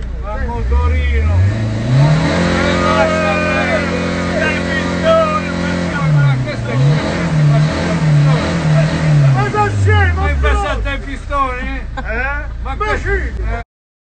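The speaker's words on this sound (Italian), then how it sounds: "Motorino." A motor scooter engine revving in an Italian street, its pitch climbing and dipping in repeated loud surges, with people talking over it.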